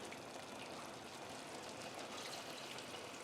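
Warm chicken stock poured into a hot pan of softened, cooked-down apples and onions, a steady broadband hiss and splash lasting throughout at even loudness, with no talking.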